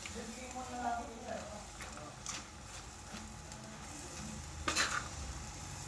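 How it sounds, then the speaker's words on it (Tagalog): Vegetables and sardines being stirred in a frying pan, soft scraping and gentle sizzling with a couple of light utensil knocks on the pan, while a person talks over it. "let's just mix the vegetables with the sardines"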